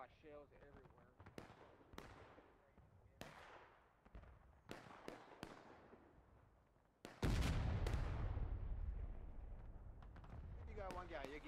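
Cannon fire from the Civil War game War of Rights: sharp, scattered artillery and musket reports crack near and far, then a heavy close blast rumbles on, with voices talking throughout.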